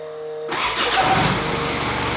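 A car engine, just repaired after a flex plate failure on the dyno, cranks and fires up, catching abruptly and settling into a loud, steady running roar close by.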